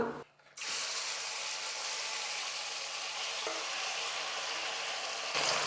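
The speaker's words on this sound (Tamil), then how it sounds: "எண்ணெய் வந்து ஓரளவுக்கு காஞ்சதுக்கப்புறம் இந்த இறால் வந்து சேர்த்துக்கலாம்" Marinated prawns drop into hot oil in a kadai and burst into a loud, continuous sizzle that holds steady after a brief quiet start.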